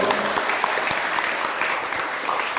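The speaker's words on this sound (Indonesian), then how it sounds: "Tepuk tangan dong." Audience applause at a seminar in Bali, a dense, steady wash of many hands clapping close by, sustained and even for a couple of seconds with no voices over it.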